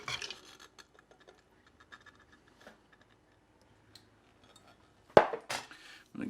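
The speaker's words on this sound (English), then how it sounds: "I'm going to give this a little stir here for a minute" Butter and heavy cream stirred in an Instant Pot for mac and cheese: faint, sparse scrapes and ticks of a utensil against the pot, then a sudden louder clatter and scraping near the end.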